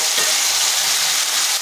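Eggplant pieces frying in hot oil in a pan, giving a steady, dense sizzle that holds at an even level throughout, close and with no voices.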